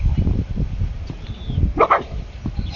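A dog barks at a donkey while eating the donkey's food, giving a few short, sharp barks and yips close by.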